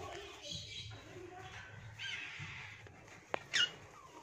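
A talking hill myna gives a brief, sharp squawk near the end, standing out over a low, quiet background with faint murmuring earlier on.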